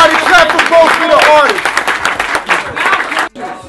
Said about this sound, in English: Everybody clap for both of the artists